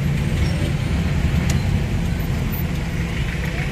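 Heavy road traffic rumbles steadily along the Davao City boulevard, a dense, continuous roar of cars and buses at moderate distance with no distinct passes standing out.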